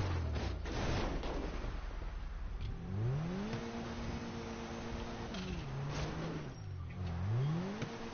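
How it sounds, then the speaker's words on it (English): A car in GTA drifts and revs, the engine pitch climbing and dropping in repeated sweeps with a steady road roar, close and continuous, no talking. "I'm just jacking around drifting."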